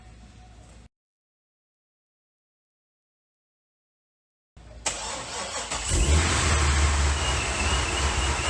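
After a brief silent gap, a car engine cranks and fires up in a garage where a Corvette is being reconstructed, then settles into a loud, steady running rumble.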